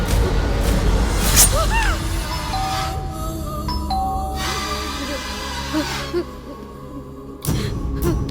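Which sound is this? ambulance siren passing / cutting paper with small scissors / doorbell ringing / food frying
doorbell ringing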